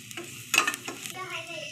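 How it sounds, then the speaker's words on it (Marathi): Chopped onion with turmeric and coriander powder is stirred in a hot pan for chicken bhaji: a soft, steady sizzle broken by a few sharp scrapes and clinks of the spatula, close and alone. "हे टाकून घेतल्यानंतर कांदा एकजीव परतून घ्यायचा आहे."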